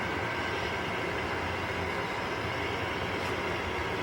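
Model trains run on a home layout, a continuous broad rumbling roll of wheels on track at steady moderate volume with no talk.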